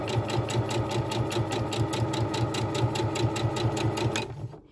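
A domestic sewing machine stitching a narrow pintuck seam near the folded edge of fabric for a small glasses-cloth pouch: a steady, rapid, even mechanical chatter, loud and close, running alone before it stops abruptly at the end.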